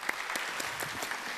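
A church youth service congregation claps together, a dense steady patter of many hands at moderate loudness, without any speech.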